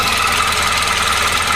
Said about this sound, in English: that ticking noise. That might be the chain.